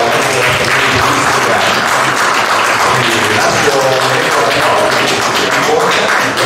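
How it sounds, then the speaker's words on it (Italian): Applause from an audience at a public presentation, loud and continuous throughout, with some murmured voices underneath the clapping. "un grande applauso"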